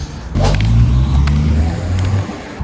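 A sold Toyota car pulls away nearby with a low engine rumble and tire noise, holding steady for a couple of seconds before easing off.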